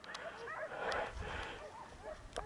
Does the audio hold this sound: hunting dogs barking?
yes